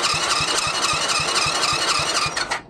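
A Mini Jeep engine with a blown head gasket and loose cylinder jug cranks over in a fast, even rhythmic churn of about ten compression pulses with a whirring starter whine, then cuts off abruptly.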